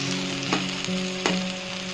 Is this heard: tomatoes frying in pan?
yes